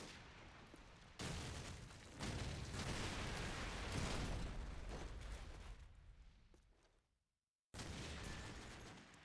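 A grenade blast in Call of Duty 4 during a competitive LAN match, sounding as loud broadband booms with sustained rumbling gunfire-like energy that fades out, a brief gap of silence, then another burst.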